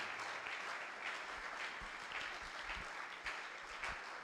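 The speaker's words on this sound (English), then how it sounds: "let's keep clapping till he gets here" Steady, sustained applause from an audience welcoming a guest speaker at a Ghana natural gas event, a dense wash of many hands clapping at even loudness throughout with no talk over it.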